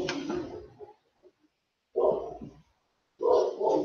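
A pet dog barks in three separate bursts inside a home, each rough and fairly close, with silent gaps between them and no talk.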